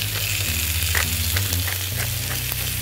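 Steaks sizzling on an oiled flat top grill with fresh ground pepper, a loud continuous hiss of frying fat that stays close and steady throughout, with a low droning hum beneath it.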